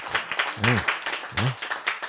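Applause from a lecture audience, with dense clapping running throughout at moderate loudness and a voice speaking briefly over it.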